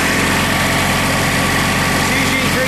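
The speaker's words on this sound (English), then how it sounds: "It's usually three-cylinder diesel." A Wacker four-bulb light tower with a three-cylinder diesel engine runs at a steady idle, a close, loud and continuous mechanical drone with constant low vibration.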